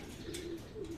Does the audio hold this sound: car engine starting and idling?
no